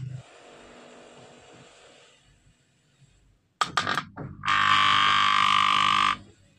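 A ceiling fan with a jammed bearing that will not rotate gives a few clicks when switched on, then a loud, steady electrical buzzing hum that lasts under two seconds before stopping.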